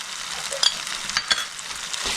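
Ginger, garlic and green chili paste sizzles and fries in a pan, a steady bright crackle broken by a few scraping stirs, close and alone without talk.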